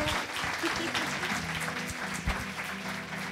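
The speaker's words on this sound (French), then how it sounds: "On peut l'applaudir, Raymond Levac." A crowd applauds Raymond Levac at a 50th anniversary retrospective for the Centre St-Pierre, steady sustained clapping filling the room with a voice briefly audible beneath it.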